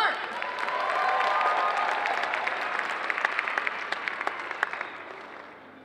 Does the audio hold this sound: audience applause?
yes